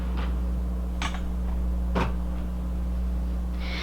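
A makeup drawer slides open with a few short scraping clicks and knocks over a steady electrical hum, close by with no talking.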